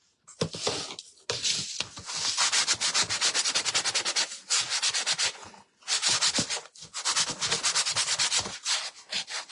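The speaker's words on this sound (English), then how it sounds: "I'm going to take my sanding sponge and I'm going to make it look smoother" Bursts of rough, scratchy rubbing as a sanding sponge is worked back and forth across a wooden birdcage cutout, loud and close, with short pauses between strokes.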